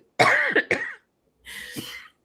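A woman coughs in a close, sharp burst of three or four hacks, falls silent briefly, then lets out a softer, raspier cough.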